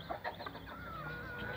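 Aseel chickens cluck briefly at a farmyard, a few quick clucks followed by a thin sustained call, moderately faint.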